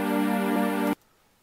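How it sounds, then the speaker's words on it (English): A sampled minor chord plays in Protracker as a single sustained, bright, harmonic-rich tone lasting just under a second, then cuts off sharply into near silence. "I'll go to track 2 and choose a sample which is a minor chord"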